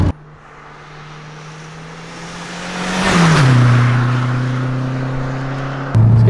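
Renault 5 GT Turbo, a 130-horsepower hatchback, driving on an open road, heard from inside as a steady engine drone that rises in revs and loudness, then drops as the gear changes, with road and wind noise.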